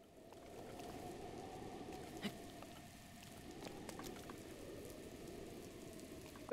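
Rain in the video game Breath of the Wild, a steady, soft patter that continues without a break and sits at a low level, with a few faint clicks and taps scattered through it.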